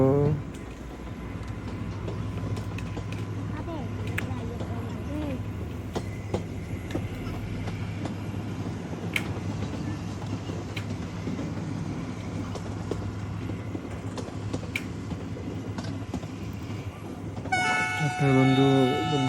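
Kanchenjunga Express passenger train rumbling steadily as it passes, a continuous low rolling drone with faint clanks, ending in a loud sustained horn blast near the end.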